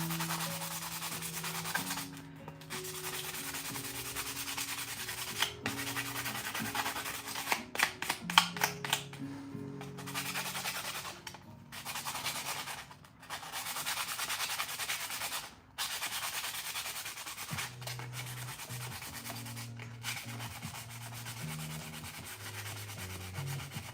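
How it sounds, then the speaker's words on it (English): Sandpaper rubbed over a pen being prepared for rhinestones, giving a continuous close scratchy rasp in uneven back-and-forth strokes with brief pauses, alone and without talking. "So I'm just going to sand the rest of the pen."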